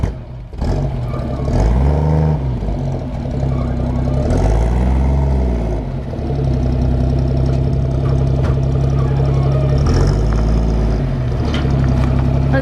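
A 1952 Ford F1 truck engine runs during its first drive after new brakes and brake lines, a loud, close, low rumble that swells into several revving surges and eases back between them.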